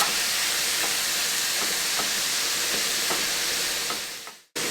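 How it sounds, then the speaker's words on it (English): Lean ground beef sizzles loudly and steadily in a hot pan, a dense continuous hiss with faint periodic scraping from stirring, cutting off abruptly at the end. "So we are going to add our ground beef."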